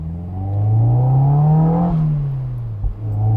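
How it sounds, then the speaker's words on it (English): Mazda MX-5 NC four-cylinder with an upgraded intake manifold, floored from low speed in second gear and revving out, a loud steady rising engine note from inside the car, briefly dipping at a shift-like lift near the end. "you wouldn't normally just floor it at 20 mile an hour in second and let it rev out"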